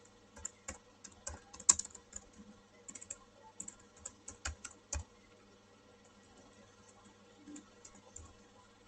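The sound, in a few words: typing data on a computer keyboard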